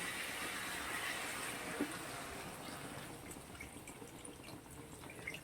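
Water poured steadily into a pan of katla fish curry with potatoes, a continuous soft splashing and trickling rush that fades slightly toward the end, heard alone.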